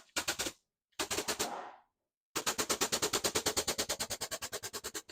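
An air-powered grease gun pumping Ford front-end wheel-bearing grease during front brake and wheel bearing work on a 1965 Mustang, giving loud, rapid rattling bursts in three runs, the last a long steady train of pulses, with no talk.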